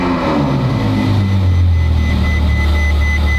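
A Ferrari F12 V12, fitted with a turbo kit, runs loud and close with a deep, steady drone and a falling pitch as revs drop toward idle.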